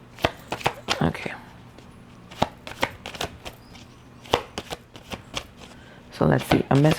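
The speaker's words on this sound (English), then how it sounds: "I do like to give them a shuffle on camera" A deck of oracle cards is shuffled by hand in crisp riffling and tapping bursts. The bursts come in quick clusters separated by short pauses, with a louder flurry near the end.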